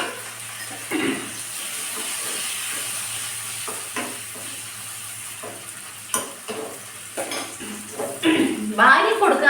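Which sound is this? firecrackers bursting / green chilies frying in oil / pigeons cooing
green chilies frying in oil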